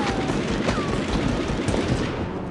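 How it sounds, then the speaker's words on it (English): Loud, dense gunfire from the 1999 video game Medal of Honor, with rapid automatic bursts blending into one continuous barrage that runs throughout. "I'm getting shot a lot."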